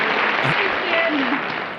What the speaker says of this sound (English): Applause break for Joyce.